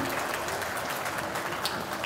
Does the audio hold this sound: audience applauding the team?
yes